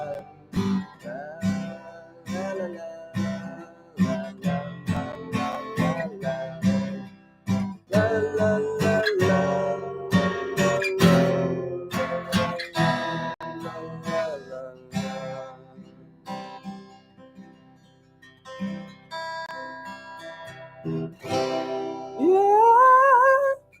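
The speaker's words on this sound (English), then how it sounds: "that is the sound of guitar" Guitar plucked and strummed close up, a run of picked notes and chords with brief pauses, ending on a bent, sliding note.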